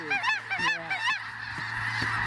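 Snow geese in a large flock honking during a hunt, a dense overlapping chorus of nasal calls in rapid bursts, loud and near at first, then continuing more sparsely over a steady background.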